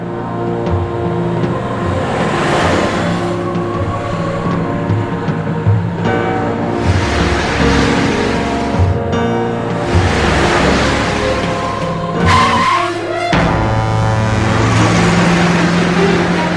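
A bus driving nearby in an animated series, a rumbling engine with shifting revving tones and sudden swells in level over a steady low hum.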